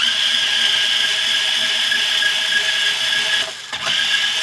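Vacuum cleaner drawing steadily over a very dusty Hamer guitar, a loud continuous whine with a slight dip and change in pitch near the end, no voices.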